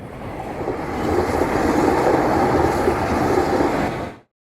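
A freight train rumbles steadily past at close range, a dense continuous roar with faint rail clatter that holds at full level for several seconds before cutting off abruptly.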